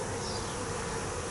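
Dense, steady buzzing of a mass of honeybees crowded on a hive frame during a swarm inspection, continuous and close with no voices.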